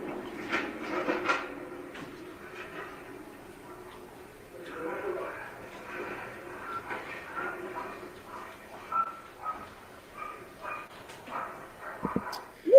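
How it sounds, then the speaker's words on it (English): A dog barks in the background outside a residence, heard as scattered faint yelps and barks under a low steady rumble and some indistinct talk. "a dog barking"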